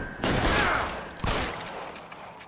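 Two loud, close gunshots ring out about a second apart in the video game L.A. Noire, each with a sharp crack that decays into a long, reverberant tail.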